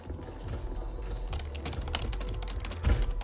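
Computer keyboard typing during an online game session: quick irregular key clicks and taps over a low, continuous background hum, a louder thump near the end, with no speech.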